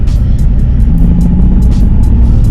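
Nissan 370Z with a manual gearbox pulling away under throttle, a steady low engine drone and rumble running loud and close throughout with no pauses.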